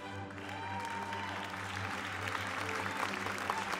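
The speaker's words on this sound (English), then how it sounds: "I force the audience to applaud." Concert audience applauding, a dense, even wash of clapping hands that builds slightly, heard over a low sustained hum.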